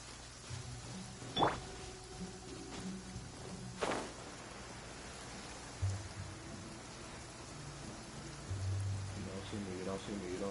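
Rain falling in the video game Genshin Impact, a soft continuous patter of drops under the scene, with a few sharp clinks and light thumps rising briefly above it.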